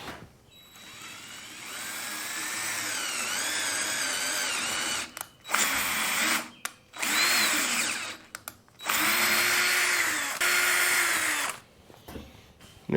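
A power drill with a 5/8 bit bores a countersink hole during a diesel compactor repair, whining loudly and steadily with pitch wavering under load, then running in short bursts with brief pauses between.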